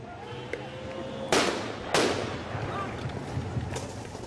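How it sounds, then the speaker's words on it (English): Two loud, sharp gunshot cracks ring out close by during an armed clash between police and students at the Red Mosque, with scattered fainter pops and a steady crowd-like rumble underneath. "a gun battle has begun"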